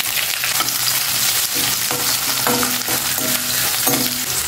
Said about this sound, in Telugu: ఉల్లిపాయలు, పచ్చిమిర్చి వేసుకోండి